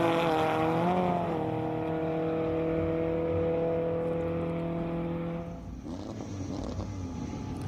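A 1968 Ford Escort with a 2-litre four-cylinder engine races up a hillclimb course, a steady droning engine note holding and shifting pitch as it passes, then fading into other engine noise.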